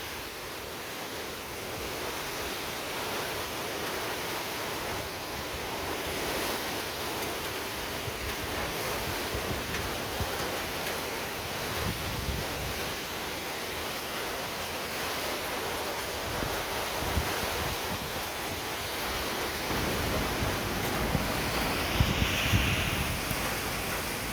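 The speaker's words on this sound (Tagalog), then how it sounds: "Grabe, hangin ulan." Strong typhoon wind roars continuously with a dense hiss of heavy rain, gusting louder toward the end, no voices.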